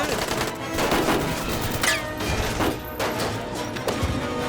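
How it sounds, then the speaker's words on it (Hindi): Rapid gunshots and crashing impacts pile up in loud, chaotic bursts against a rumbling background. "ओए गोली चला रहे हैं ये लोग तो।"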